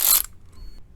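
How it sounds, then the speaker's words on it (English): A Milwaukee 3/8-inch electric ratchet with a 14 mm deep socket, working on an alternator bolt of a Toyota 2UZ-FE 4.7 engine, gives one sharp buzzing burst lasting about a quarter second, then faint quiet. "I have my Chemo 3/8 electric ratchet with a 14 millimeter"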